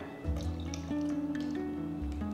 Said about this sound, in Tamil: ஸோ நான் இன்னொரு கப்பு தண்ணி சேர்க்க போகிறேன்.